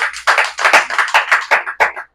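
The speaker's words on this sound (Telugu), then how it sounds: "చప్పట్లు బట్టి కనపరచాలి." Hands clapping at a cottage prayer meeting: about eight loud, close claps in a steady rhythm, then a sudden stop.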